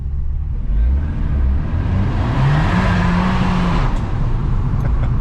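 An Abarth 695 70th Anniversario engine with a Monza exhaust rumbles loudly and steadily close by, its exhaust note droning and rising slightly as it drives.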